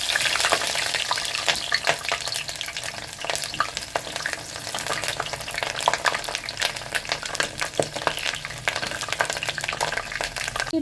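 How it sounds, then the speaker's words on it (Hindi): Onion fries in a pan with cloves and cardamom for a mutton and okra curry, giving a steady, close, crackling sizzle that runs without a break and with no talking. "इसको हम ब्राउन कर लेंगे प्याज को"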